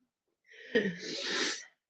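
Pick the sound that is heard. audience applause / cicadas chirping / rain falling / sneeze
sneeze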